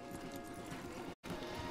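Horse hooves clop steadily along a forest path in Red Dead Redemption 2, a dense continuous patter with a brief cut to silence near the end.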